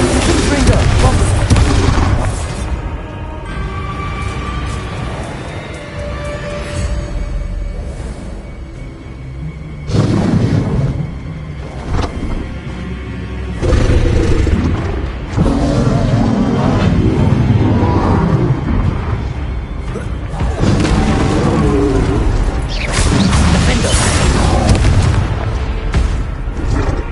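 Bombarda and Confringo spell blasts in Hogwarts Legacy, a steady run of loud booming explosions layered over game music and effects, with a voice speaking over the action.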